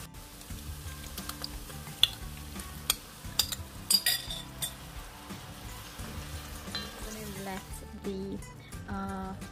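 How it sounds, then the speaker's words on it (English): Curried conch (lambie) goes into a hot Trinidad-style curry pot, setting off a crackling sizzle with scattered clicks and spoon clinks. The hiss swells toward the end, and a voice talks over it. "I am ready to add my lambie or my conchs to my pot"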